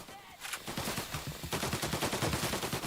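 In Mafia Definitive Edition, a Tommy gun rattles off rapid automatic bursts, loud and close. It starts after a short quiet moment and keeps firing in a fast stutter to the end.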